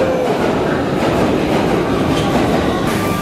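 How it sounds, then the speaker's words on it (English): London Underground Victoria Line train running at steady speed, a loud continuous rumble and rattle of wheels on track with a faint high squeal, no talking. "Do you hear the sounds of the underground?"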